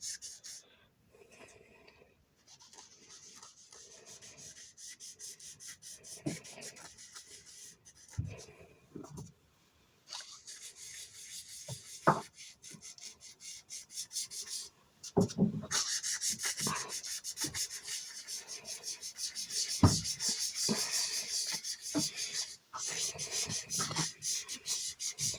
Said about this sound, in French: je vais prendre de la Distress Ink Vintage Photo. Et je vais essayer d'en mettre un petit peu sur les bords.